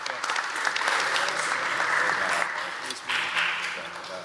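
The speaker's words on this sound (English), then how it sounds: "y'all give it up another round of applause for Tony Boyd" Audience applause at a spring student showcase in Detroit swells and holds, then fades slightly near the end, with faint voices mixed into the clapping.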